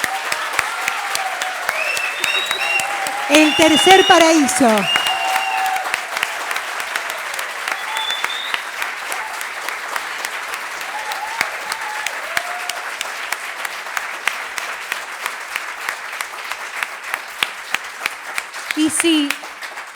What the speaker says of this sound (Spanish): Merece un gran aplauso.